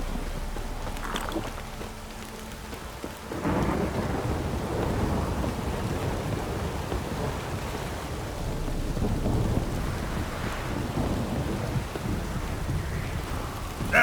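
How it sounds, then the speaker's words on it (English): Rain falls steadily in a Witcher 3 game scene while thunder rumbles, with a sharp crack and a rolling roar a few seconds in and continuous heavy downpour afterwards. "This downpour's a bastard,"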